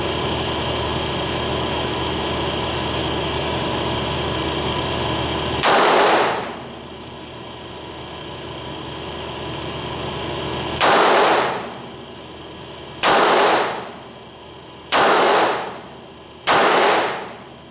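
An S&W 340 SC .357 five-shot revolver fires Winchester white box 130-grain jacketed rounds: five sharp, loud reports at uneven intervals over a steady background hum.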